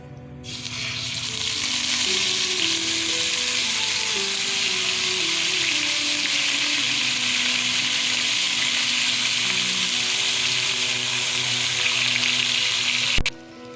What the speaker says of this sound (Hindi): अब हम इसमें चिकन के पीसेस डालना शुरू करेंगे।